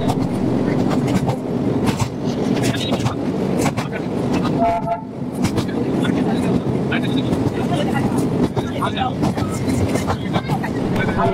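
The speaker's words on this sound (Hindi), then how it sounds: "मार्केट होकर ट्रेन गुजर रही है, दोनों साइड जो है वो मार्केट है और बीच में जो है रेलवे ट्रैक है।" Darjeeling narrow gauge toy train rolls through a market street with shops on both sides of the track, its horn tooting over a steady rumble and clatter amid constant crowd and traffic noise, with voices talking throughout.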